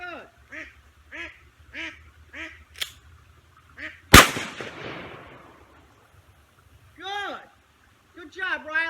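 Ducks quack in a run of short, evenly spaced calls near a swimming Labrador on open water, broken by one sharp, loud shotgun blast whose echo trails off before more quacking resumes.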